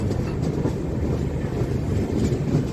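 A powerful locomotive hauling the Pune–Nagpur AC special train, a heavy continuous low rumble with steady rail noise and no distinct horn, loud and close throughout.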